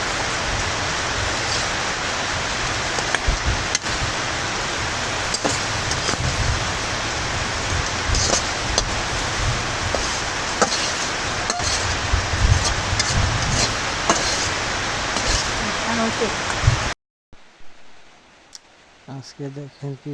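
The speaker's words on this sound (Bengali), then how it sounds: "বৃষ্টিটা হচ্ছে সকাল থেকে সন্ধ্যা পর্যন্ত শুধু বৃষ্টি" Heavy rain falling for the whole day, with a dense, steady hiss of rain on surfaces throughout and a few faint clicks, ending abruptly near the end with quieter sounds after.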